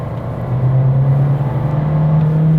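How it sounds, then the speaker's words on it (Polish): A Volkswagen Taigo engine revs hard at full throttle and climbs in pitch as it accelerates, a loud steady drone close by with no voices. "Co ta moc oznacza, jak wcisnę but w podłogę?"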